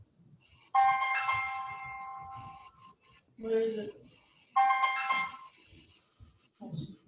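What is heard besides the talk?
mobile phone ringing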